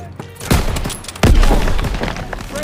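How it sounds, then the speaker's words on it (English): Heavy booming blasts of grenade explosions in the World War II shooter Call of Duty: WWII on PC, two loud thumps standing out over ongoing battlefield gunfire and rumble. "Toss it out, a grenade!"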